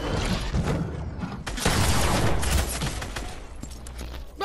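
SMG fire in a video game, a rapid, dense rattle of shots in sustained bursts, loud and close, with heavy crackling noise throughout.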